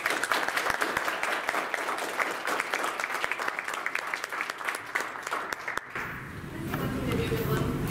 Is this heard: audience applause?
yes